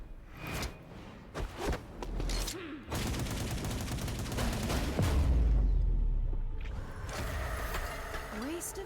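Rapid gunfire barrage from Miss Fortune's ultimate in the League of Legends game Ruined King, a dense crackling volley with a deep boom, layered with game effects and voices talking throughout.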